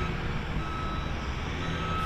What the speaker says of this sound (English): Frank, Lori, it's a little dark out here now, so you can't really see the construction, but you can definitely still hear them out here working